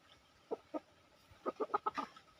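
A gamefowl broodstag chicken clucks in short, quiet bursts: two soft isolated clucks, then a quick run of five close clucks, heard nearby in an otherwise still setting.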